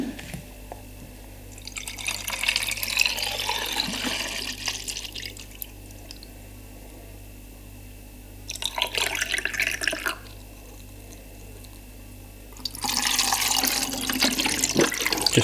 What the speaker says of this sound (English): In goes the stop bath.